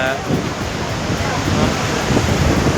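Strong wind buffets the microphone at a beach-view rooftop restaurant, a loud, dense roar of gusts with possible surf beneath, steady and near throughout.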